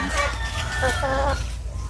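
Chickens cluck and squawk nearby in short bursts, a quick run of hen calls over a low background hum.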